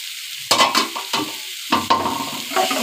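Mashed taro with salt and pickle oil stirred in a hot pan: several loud, close scraping strokes in bursts over a light sizzle.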